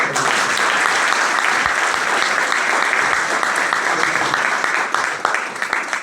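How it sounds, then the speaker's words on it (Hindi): Loud, sustained applause from a large audience at an AWPL program, dense and steady throughout with no pauses. "एक जोरदार तालियां"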